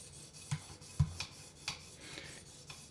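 A Buck 560 knife blade is sharpened on TSPROF grit stones, producing soft, evenly spaced rasping strokes with a few faint taps, quiet and close with no talk.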